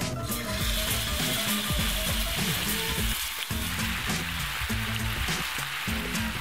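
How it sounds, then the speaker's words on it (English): Marinated beef stir-fries in an oiled pan with a loud, steady sizzle that crackles continuously, with tonal music playing underneath. "Once marinated, we can stir fry the beef. Be sure to oil the pan first."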